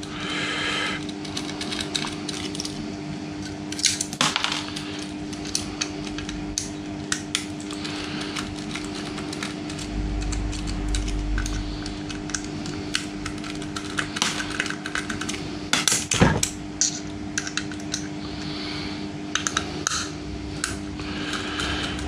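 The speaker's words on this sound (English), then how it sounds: "I'm just going to keep undoing screws." Screws being backed out of a scrapped hard drive with a Phillips screwdriver, a steady scratchy metallic ticking and clicking with occasional sharper knocks, close up and continuous, no voices.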